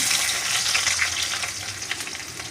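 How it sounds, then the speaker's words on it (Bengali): Cumin seeds frying in hot oil as a tempering for a flat-bean curry, giving a steady, close, fairly loud sizzle with a dense crackle that holds even throughout. "জিরাটা একটু ভাজা ভাজা হয়ে যাক।"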